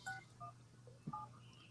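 Telephone keypad tones beep in a quick series of short, distinct presses while a number is dialed on a phone, quiet and close with a low hum underneath.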